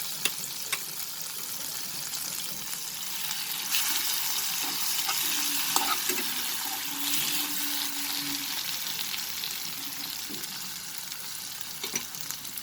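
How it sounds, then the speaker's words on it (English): Mashed green peas sizzling in a pan over a low flame while cooking for green peas puri, a steady close crackling hiss with occasional faint clinks, no talk. "While adding the mashed green peas, please make sure the flame is low."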